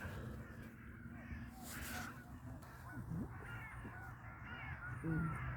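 A lone bird outdoors in nature gives a few short, harsh calls, with the calls clearest near the middle and end. They sound fairly distant over a steady hum of open-air ambience, and no one speaks.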